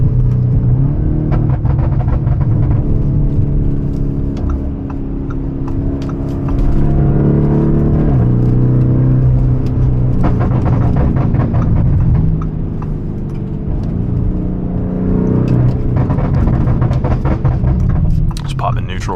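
Novitec widebody Lamborghini Urus on a Gintani Stage 2 tune, its exhaust giving a deep continuous rumble with scattered sharp crackles and pops as the throttle lifts, heard from inside the car while a person talks.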